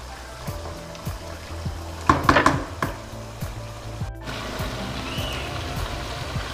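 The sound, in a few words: apple gourd meat curry frying on high flame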